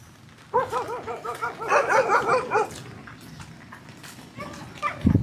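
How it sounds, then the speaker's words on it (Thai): Dog barking near a house, a burst of several sharp yelping barks in quick succession, then quieter scuffling, with a faint voice in the background. "ไม่ต้องเห่าเลย เข้าบ้านไปเลย"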